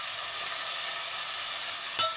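Steady sizzling of food frying in a pan while cooking biryani, a constant hiss with no voices and a brief small clatter near the end.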